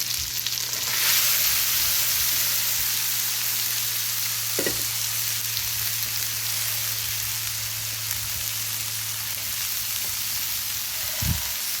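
Cabbage fries in a pan for curry with a steady, broad sizzle throughout, joined by a low constant hum, a couple of brief clanks from stirring, and a soft thump near the end; no voices.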